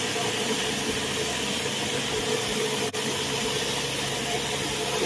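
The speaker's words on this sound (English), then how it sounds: "you can always tell once you go over it with this surface cleaner" A pressure washer surface cleaner works over a driveway, giving off a loud, unbroken broadband hiss and spray roar with an engine hum beneath it. Near the middle the roar dips for a split second.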